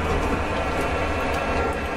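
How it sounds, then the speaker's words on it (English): A train rumbles past in Train Simulator with a Class 143 unit on the line, a steady, loud, broadband roar of wheels and running gear that holds evenly throughout with no voices. "We watch this train come bolting on through."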